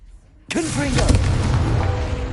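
A Confringo blasting curse goes off in Hogwarts Legacy: after a brief near-silent lead-in, a sudden loud burst erupts and rolls into a dense, sustained rumble with whooshing, crackling debris, all close and loud.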